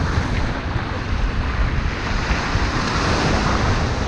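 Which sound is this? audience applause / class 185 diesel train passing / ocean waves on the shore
ocean waves on the shore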